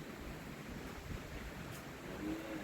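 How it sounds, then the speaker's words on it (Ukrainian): Strong gusts of wind on a dark night outdoors, a steady broad roar with slight swells in force, close and fairly loud against the microphone, with no voices. "можливо чути пориви вітру"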